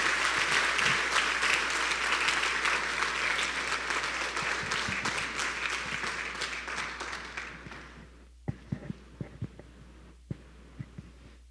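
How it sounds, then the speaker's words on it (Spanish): A church congregation in Cienfuegos applauds to welcome the pastor, loud sustained clapping from many hands that gradually fades, then stops abruptly, leaving a few isolated claps over a low hum. "Vamos a recibir al pastor Pablo con un fuerte aplauso"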